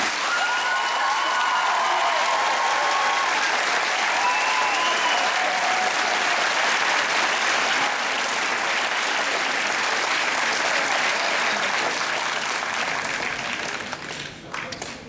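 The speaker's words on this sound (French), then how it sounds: "Je vais demander aux finissants d'applaudir toutes ces personnes." Graduates at a graduation ceremony applaud in a dense, sustained wave of clapping that fills a large room, staying loud and steady before thinning slightly at the end.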